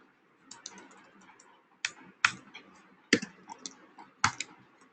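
Computer keyboard keys are tapped in short irregular bursts, with a few sharper louder clicks standing out over soft background hiss, close and fairly quiet.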